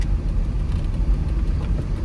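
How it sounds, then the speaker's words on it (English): A 1995 GMC Yukon 1500 flings mud off its tires in a swampy lot, giving a steady, close, low rumble with a gritty spatter that stays even throughout. "Get all that mud off the tires. That's what you're hearing right now."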